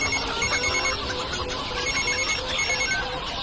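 A telephone rings steadily with a repeating electronic ringtone, fairly loud and continuous over a busy background, as a call is placed to a father.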